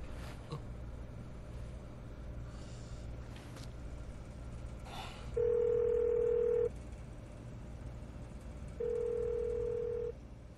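A telephone call rings out on the line with two long, steady electronic tones separated by a pause, clear over a low background hum, with no voices.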